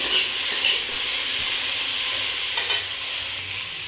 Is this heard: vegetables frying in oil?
yes